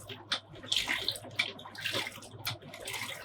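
Sanitizer water runs from the opened draw spout of a soft serve machine with the pump engaged, a gushing, splashing flow with uneven spurts and no speech.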